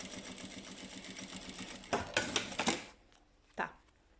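A sewing machine runs a rapid, continuous mechanical whir while stitching fabric all the way around a mould, then stops, followed by a few handling clatters and a short burst of motor, moderately close.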